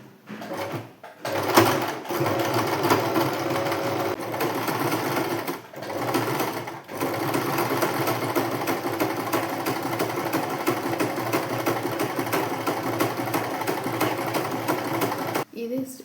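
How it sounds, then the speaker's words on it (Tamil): A sewing machine runs a zigzag stitch on fabric, with a close, rapid mechanical chatter that pauses briefly a few times. A voice talks faintly underneath. "ஜிக்ஸாக் ஸ்டிச் வந்து நான் இங்கே இப்போ யூஸ் பண்ணி உங்களுக்கு காமிக்கிறேன்."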